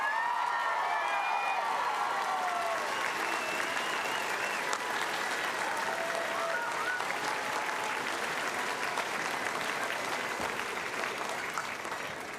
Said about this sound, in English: offer the faculty and staff of North Idaho College assembled here today a round of applause